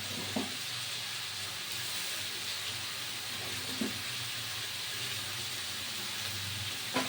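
Shredded cabbage cooks in a pan with a steady close sizzle and steamy hiss, broken by a few brief knocks of stirring.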